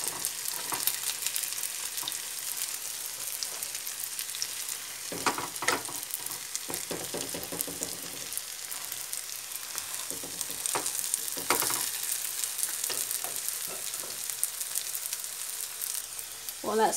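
Vegetable burgers fry in an oiled pan with a continuous soft sizzle and crackle, broken by occasional scraping and stirring sounds, with a voice talking faintly now and then.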